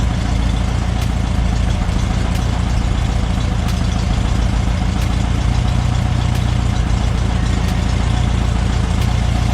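Rebuilt engine with a carburetor idling steadily near 850 rpm, a loud, continuous low rumble with a faint regular ticking throughout, close up and without talk.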